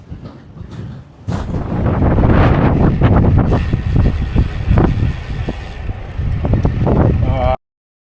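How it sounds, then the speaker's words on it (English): Gusty side wind buffets the microphone during a road cycling ride in Perth, a rough, rushing roar that swells after the first second and holds loud until it cuts off, with a voice talking underneath. "with a side wind coming up now, and it's still manageable"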